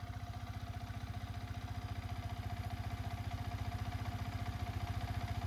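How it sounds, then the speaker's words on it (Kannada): A Yamaha MT 15 motorcycle idles steadily up close, its engine giving a smooth, even low pulsing throb with no talk over it. "ಇಂಜಿನ್ ಸೌಂಡು ಮಾತ್ರ ಅಷ್ಟೇ ಸ್ಮೂತ್ ಐತಿ,"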